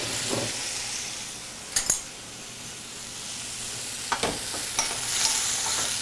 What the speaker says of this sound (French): Je déglace comme il faut